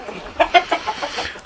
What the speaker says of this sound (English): a couple of my roosters here, and they're good animals